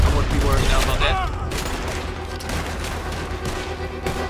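Rapid gunshots crackle close up during a Saint Denis bank robbery shootout in Red Dead Redemption, loud at first and then settling into a steady, dense din of battle with a voice in the mix.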